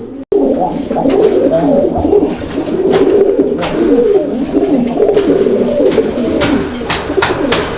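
A large sky-blue Raj-golla pigeon cooing loudly and close, with continuous rolling, throaty coos over a faint background of other birds.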